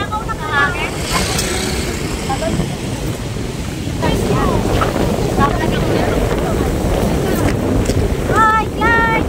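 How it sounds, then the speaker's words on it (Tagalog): Strong wind roars and buffets the microphone continuously at the Pililla Wind Mill wind farm, with a loud rumbling rush throughout and faint chirpy sounds in the background. "Nauga itong ating camera. Sa lakas ng hangin."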